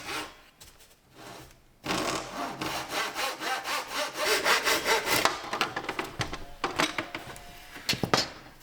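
A hand saw cuts wood veneer boards to length in steady back-and-forth strokes, rasping close and fairly loud after a short quiet start, with brief pauses between bursts near the end.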